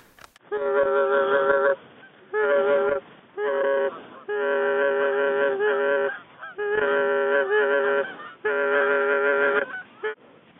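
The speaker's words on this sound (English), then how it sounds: "There's a lot of geese around, it sounds like." Loud, nasal goose honks in long overlapping bursts, several birds calling together with short pauses between flurries, heard on a morning hunt.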